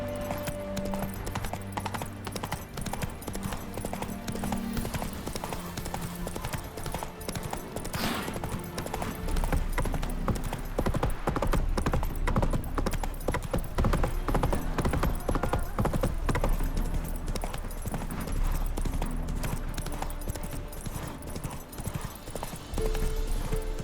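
Roach, the horse in The Witcher 3 video game, gallops in a loud, continuous clip-clop of hooves that grows heavier midway, with a faint whinny and no talking.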